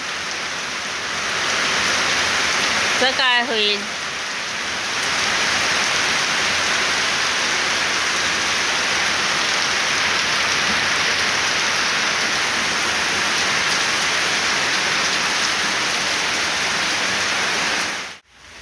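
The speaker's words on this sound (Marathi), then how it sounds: "जोरदार पाऊस" Heavy rain pours down steadily in a dense, constant hiss throughout. A voice speaks briefly near the start.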